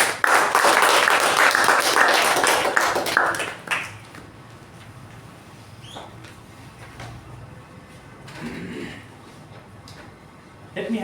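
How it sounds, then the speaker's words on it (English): A roomful of members at a Toastmasters club meeting give loud, thick applause for nearly four seconds. It then drops away to a quiet room with scattered knocks and small shuffling noises. "With a thunder of round of applause"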